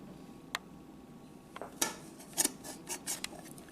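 Scissors snip through material in a kitchen, a handful of sharp separate cuts at close range over a quiet room, the later ones coming in quicker bursts.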